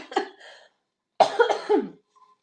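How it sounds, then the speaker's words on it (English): A woman coughs during a hair topper live stream: a short cough, a pause of about half a second, then a harsher burst of two or three coughs, close and fairly loud, with no talking. "I'm having a cough attack."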